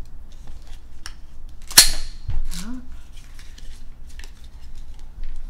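A Sig Sauer pocket pistol has its slide racked in one sharp metallic clack, with a softer mechanical click just after, close up. Quiet room noise sits around it.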